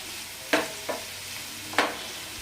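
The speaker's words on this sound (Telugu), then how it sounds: "ఈ ఆనియన్స్ అన్నీ కొంచెం మగ్గనివ్వండి. కరివేపాకు కూడా కొంచెం వేసుకోండి." Onions and curry leaves fry in a pan with a soft, steady sizzle, broken by a few brief stirring scrapes, close and fairly quiet with no talking.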